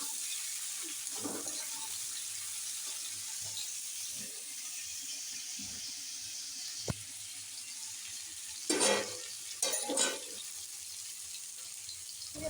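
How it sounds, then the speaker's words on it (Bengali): Tap water runs quietly in a kitchen sink while prawns are washed, a soft continuous trickle with a few louder splashing bursts and a sharp clink partway through. "তারপরে চিংড়ি মাছটা আবার ধোবো"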